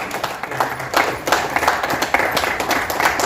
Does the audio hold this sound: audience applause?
yes